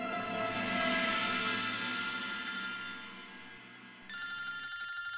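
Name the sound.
telephone ringing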